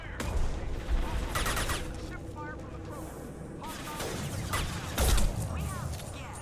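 Gunfire from a Krogan in Mass Effect 2, a burst of rapid shots followed by scattered bangs and impacts amid game effects, with voices talking over it.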